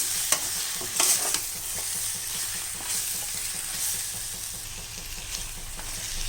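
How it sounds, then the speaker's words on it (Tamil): Masala for Chettinad chicken curry sautéing in a pan, with a steady close sizzle and repeated scraping stirs that run the whole time, with no voices. "இதையும் போட்டு நல்லா வதக்கிடலாம்"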